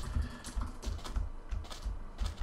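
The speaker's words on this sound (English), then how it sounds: "she's typing something" Rapid clattering keystrokes on a computer keyboard during a Minecraft play session, arriving in quick rhythmic bursts that run steadily throughout at close range with no talking.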